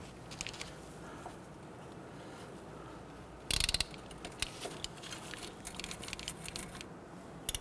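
A ratchet loosens a 10mm ABS sensor bolt on a Honda Ridgeline front knuckle, giving quiet, close bursts of rapid clicking with small metallic taps between them.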